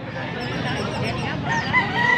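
A stag, a young gamecock, crows once nearby, a short strained call with other birds faintly in the background.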